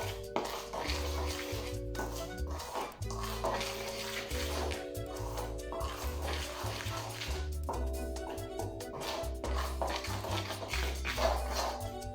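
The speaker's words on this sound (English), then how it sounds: "We can first stir the flour a little bit." Spoon stirring flour in a bowl while making homemade bread, with repeated scraping and clinking against the bowl over a steady musical background, no one speaking.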